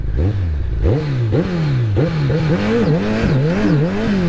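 A Honda Blackbird motorcycle accelerates hard along an open road, its engine loud and close, pitch climbing in repeated surges as it revs up through each gear with short dips between.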